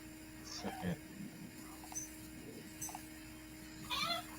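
A cat gives several short, plaintive meows, near and distinct, spaced across a few seconds over a low background hum.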